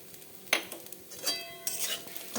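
Chirer poha (flattened rice) with fried peanuts being stirred in a pan, a few scraping strokes and light clinks of a spoon against the pan, close and alone.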